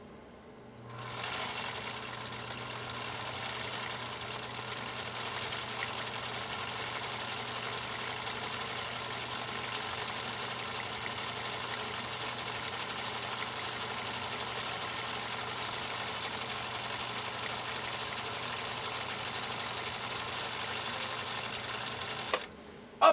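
A Husqvarna Viking Type 21 sewing machine driven by a 1.5 amp Westinghouse motor stitches continuously for about twenty seconds, a steady motor hum and fast needle chatter at a constant pace, starting and stopping abruptly with no talk.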